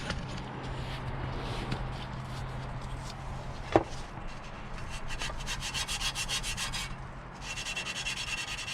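A Scotch-Brite pad scrubs a Toyota Previa engine part during a valve cover gasket job, making close, steady rhythmic rubbing strokes with one sharp knock partway through and no talking.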